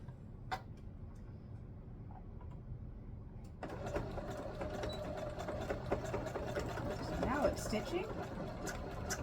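A home sewing machine stitches fabric for a Christmas sewing project, first a faint rapid ticking hum, then a louder steady whirring run with mechanical clatter after a few seconds, with a voice speaking at times.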